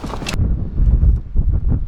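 Strong gusts on Mont Ventoux buffet the microphone in heavy, low rumbling bursts, with a brief brighter rustle at the start.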